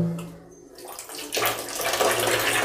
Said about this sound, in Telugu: అదే స్లోగా వాటర్ వస్తుంది